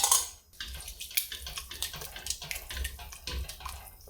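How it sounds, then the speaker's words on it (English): Pickles and pickle juice tipped into a pot of dill pickle soup, giving a close, continuous wet splashing and pouring with broadband bursts and small plops throughout, no talking. "And finally, we're adding in those pickles"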